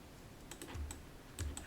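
Keys are pressed on a computer keyboard, a few soft, close clicks scattered over a quiet room background with no talking.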